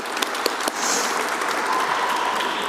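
An audience at the Navy Pier marina opening in Chicago applauds: a few scattered claps swelling into steady, moderate applause that continues evenly to the end.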